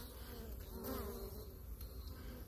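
A close, steady swarm-like hum of honeybees flying around a hive entrance, some bringing in pollen, with a slightly louder pass near the middle and no speech.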